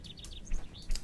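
A single bird chirps in the video game The Excavation of Hob's Barrow: a few short, high tweets in quick succession over a soft background.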